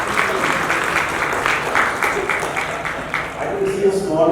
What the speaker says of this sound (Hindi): जोर से तालियां हो जाएगी प्लीज